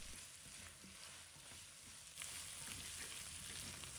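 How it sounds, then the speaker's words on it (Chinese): Shredded radish stir-fried with dark soy sauce poured around the wok edge, a continuous close hiss of frying that swells louder partway through, with a few faint scrapes and no voices. "沿着锅边淋入一点老抽，继续翻炒，让老抽均匀地包裹在萝卜丝上"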